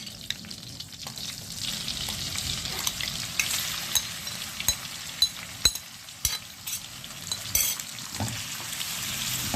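Alexandrian-style liver fries in a pan with liver fat, butter and oil, producing a constant crackling sizzle dotted with sharp pops and spatters, close and fairly loud.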